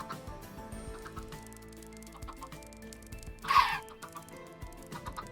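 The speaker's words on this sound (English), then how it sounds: "I'm surrounded by chickens." Chickens in the Minecraft video game give a short cluck in the middle of a busy game soundscape, heard amid continuous music-like tones and other in-game sounds.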